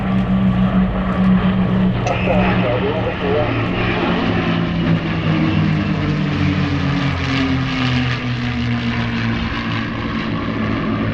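Two Hispano Buchon fighters roll down the runway at the Sywell Airshow, their piston engines droning loudly with shifting propeller tones and a slowly falling pitch, while a commentator talks over them.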